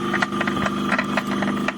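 A 230 V sliding gate motor starts up and runs, a steady mechanical hum with faint rubbing and ticking texture throughout, fairly close.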